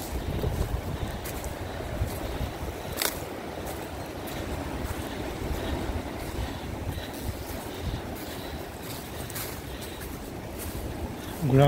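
Strong wind roaring steadily at a high fortress among big rocks and trees, a dense continuous rush buffeting the microphone throughout, with a voice faintly under it.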